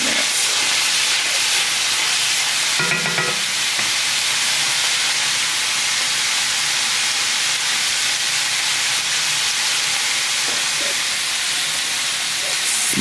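Chopped onions for lasagna sizzle in a pan, giving a steady, bright hiss that holds without a break, interrupted by a brief clatter early on.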